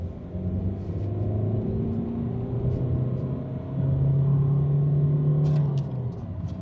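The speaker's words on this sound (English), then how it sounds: "Yeah, still reluctant to rev there." A Rover 75 engine straining as the car is driven, revving reluctantly as if it hits a wall around 3,500 rpm. A steady, loud low drone and rumble swells in the second half, with no talk.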